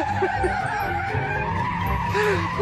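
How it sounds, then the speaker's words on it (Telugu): A vehicle skids after brake failure in a comedy clip, giving a sustained tire-squeal screech with engine rumble underneath, loud and continuous for a couple of seconds. "ఇక్కడ ఈ డాగీ గాడి బండి బ్రేక్ ఫెయిల్ అయిపోయింది."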